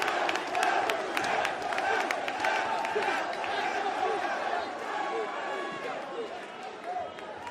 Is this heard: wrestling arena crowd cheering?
yes